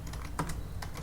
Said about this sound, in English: you have to type lando